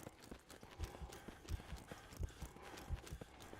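Horse hooves clip-clop in the video game Conscript, a steady run of fairly close, dull thuds spaced about every half second over a busy game soundscape, with no talk.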